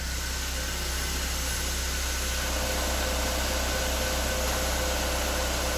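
Steady drone of a 2005 Corsa 1.6 8v engine with a suspected clutch or gearbox fault, idling with a constant hum and even vibration, close and continuous, with no talking.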